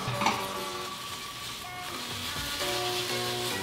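Tomatoes and thin zucchini slices sautéing in olive oil, a soft steady sizzle with a light clatter of utensil on pan near the start, while background music tones play underneath.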